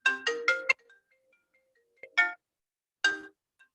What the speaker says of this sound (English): Oh, my telephone is ringing here.